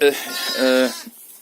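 A newborn Cameroon lamb, born the day before and kept apart from the flock, gives a couple of close, wavering bleats in quick succession.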